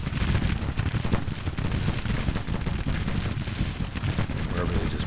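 Dense American Civil War battle din in a strategy game: artillery booms and rolling musket volleys merge into a loud, continuous rumble with scattered sharper cracks throughout.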